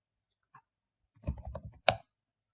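Keystrokes on a computer keyboard as a short command is typed at a domain controller's command prompt: a single faint tap, then a quick run of soft clicks ending in one firmer key press, close and quiet.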